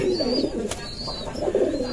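A male Rajshahi Giribaz pigeon coos close by in a steady run of low, throaty calls that rise and fall without pause, with no voices over it.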